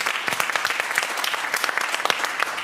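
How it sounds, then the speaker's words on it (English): An audience claps steadily, a dense burst of applause from a room full of people, without talk. "Round of applause for the BIPOC Jam."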